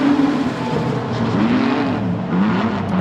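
Production sedans racing on a dirt speedway during an Australian title heat, engines roaring steadily and droning together with shifting pitch, a continuous loud field of cars with no voice over it.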